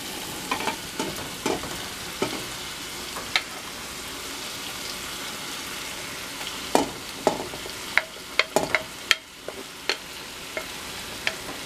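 Bacon and sausage frying with onion and garlic for Zuppa Toscana make a continuous close sizzle, punctuated by sharp clicks and taps of a spoon or spatula against the pot.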